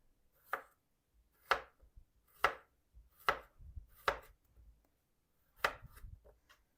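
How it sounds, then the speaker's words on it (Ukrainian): A knife chops young, soft-skinned zucchini into half-rings on a cutting board, giving six crisp, evenly spaced thuds at close range with light board noise between cuts and no voices. "Нарізати їх потрібно або ж напівкільцями, або ж соломкою. Ми будемо нарізати напівкільцями."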